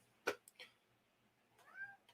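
A cat meowing indoors: a short sharp cry near the start, a brief second call, then a longer rising-and-falling meow near the end, fairly close and alone, with no talking.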